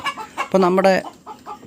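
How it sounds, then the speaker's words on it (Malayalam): Country hens in a backyard flock cackle loudly after laying eggs, a burst of repeated squawking clucks up close, with a voice speaking briefly around the noise. "മുട്ടയിട്ടതിൻ്റെ ബഹളമാണ് കേൾക്കുന്നത്"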